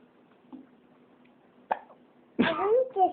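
A young child hiccups once with a short sharp catch near the end, then gives a small follow-up vocal sound, close by in a quiet room.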